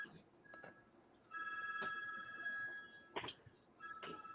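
A telephone rings faintly in a workshop, a few intermittent electronic trills with clicks and background noise between them.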